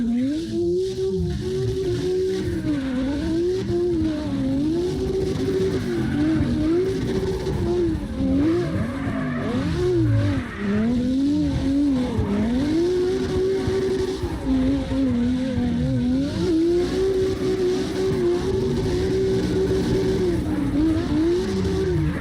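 Cars drifting in CarX Drift Racing Online, several game engines wailing and revving up and down in long sweeping arcs with tire squeal, loud and continuous with no talk.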